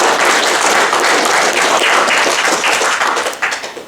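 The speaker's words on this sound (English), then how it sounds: "So big round of applause for our" An audience at a student presentation evening applauds loudly and steadily, with dense clapping that tapers off near the end.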